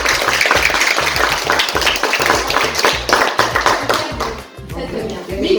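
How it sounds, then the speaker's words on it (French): A school class claps loudly for a classmate after a storytelling activity, the uneven clapping mixed with children's voices and a low rhythmic tone running underneath. "Applaudissez très fort le chien."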